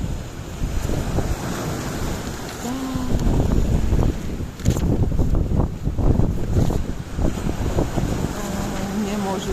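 Strong wind buffets the microphone in a steady roar by the sea, with surf washing underneath and brief faint sounds breaking through.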